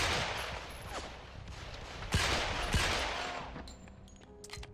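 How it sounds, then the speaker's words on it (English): Gunfire in the 007: Quantum of Solace video game: a dense, continuous fusillade of shots with a few louder cracks standing out, tapering off toward the end. "shooting the guy that's like right in front of you is actually like kinda hard"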